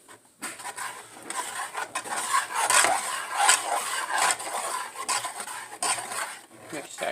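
Baked mac and cheese mixture gets stirred in a bowl, with steady scraping and rubbing of a spoon, occasional clinks against the side, and no talking.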